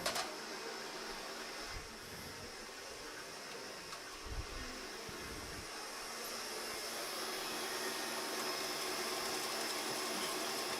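An electric mixer runs steadily while a blueberry recipe is prepared, a continuous close whirring drone that holds level and grows slightly louder toward the end, with a few low thumps early on and no talking.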